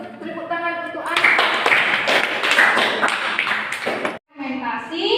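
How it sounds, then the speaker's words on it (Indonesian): Students in a Grade 10 physics class clap their hands together for about three seconds, a brisk cluster of claps that stops abruptly, with talking before and after. "Tepuk tangan untuk Anda."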